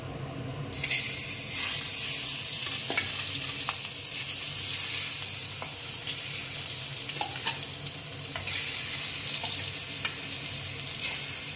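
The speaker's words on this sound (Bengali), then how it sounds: "মাছগুলো এবার সেই তেলে দিয়ে দিচ্ছি" Pieces of aar fish hit hot oil in a kadai and break into a steady, close sizzle that carries on throughout, dotted with occasional pops, ticks and utensil clinks.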